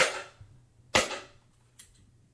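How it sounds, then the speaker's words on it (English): Fireworks pop outdoors, three sharp cracks in about two seconds, the middle one loudest, each with a brief fading tail, and no talking. "Why the fuck is you popping fireworks?"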